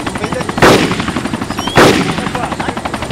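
Two sharp, loud gunshots about a second apart in the video game DayZ cut through a steady droning background.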